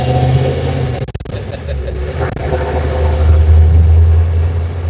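A 1986 Ford F350 pickup engine rumbles loudly and steadily from inside the cab, deepening as it pulls, with a few brief knocks and some faint voices.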